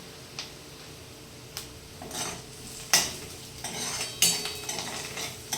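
Onions fry in a pan under a soft, steady sizzle, while a utensil occasionally scrapes and taps the metal in a few scattered strokes, close by and fairly quiet.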